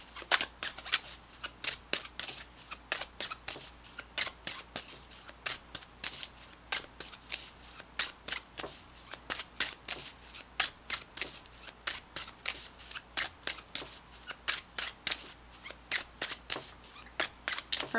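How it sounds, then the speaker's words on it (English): Tarot cards are shuffled steadily and close up for about eighteen seconds, a dense run of quick riffling bursts and soft slaps with no talking over them. "Let's pull you an additional guidance card"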